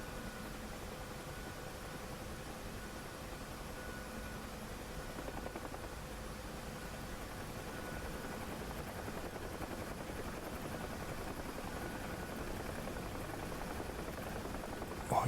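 Apache helicopter rotors idle on the runway in the flight simulator DCS World, a steady, dense broadband whir with a faint tonal hum, running continuously at even loudness with no talk.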